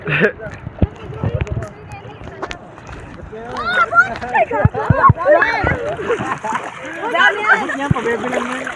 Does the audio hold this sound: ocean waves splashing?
yes